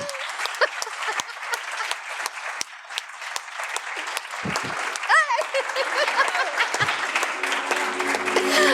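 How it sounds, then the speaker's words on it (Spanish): Audience applause at a live talk about female monstrosity in fiction, a steady sustained clapping that builds gradually toward the end, with a voice briefly heard near the close. "un aplauso increíble para estas dos chicas maravillosas"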